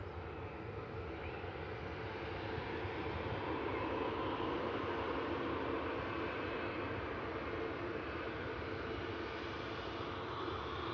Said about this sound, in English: We have an EasyJet on the taxi out for Paris, where this aircraft's just come from